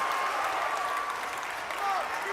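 A basketball crowd at a men's college game cheers and applauds after a tying free throw, a dense wash of clapping and shouting under a commentator's voice.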